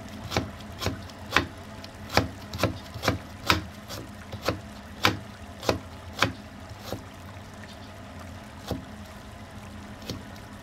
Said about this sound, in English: Slice the torch ginger flower.